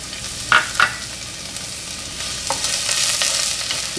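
Red onion sautéing in hot oil for beef mechado, a steady soft sizzle with a few sharp scraping stir clicks near the start, close and without talk.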